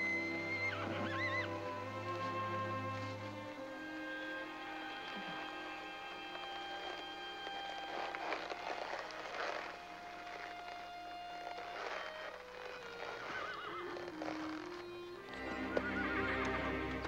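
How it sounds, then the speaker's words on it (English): Ponies are driven through a small coastal town before their swim back to Assateague, with repeated whinnies and neighs over a rhythmic clatter of hoofbeats on pavement, moderately close and without talk. "watch them drive the ponies back through town for their swim back to Assateague"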